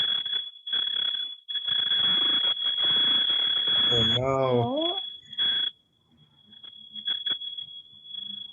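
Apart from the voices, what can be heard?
fire alarm beeping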